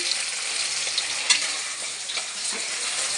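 Small puti fish frying in hot oil in a pan: a bright, even sizzle holds throughout with a few soft clinks as the fish are turned, and no voices are heard.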